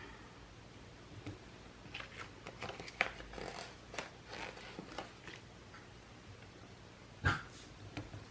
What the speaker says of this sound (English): I have my daughter's dog here today, and he wants to sit on my lap